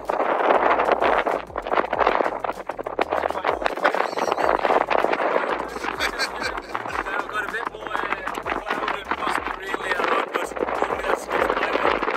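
Gusty wind buffets the microphone in low rumbling bursts, loud and uneven, with footsteps and some talking underneath.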